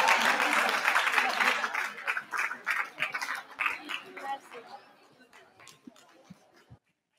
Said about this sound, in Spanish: un fort aplaudiment per la Mireia Ortega